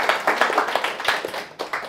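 A congregation claps rhythmically in a church service during a sermon, a steady run of sharp, fairly close hand claps with a bright crowd texture, no speech over it.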